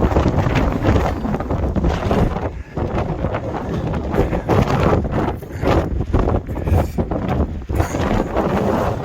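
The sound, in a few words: strong wind on a mountain top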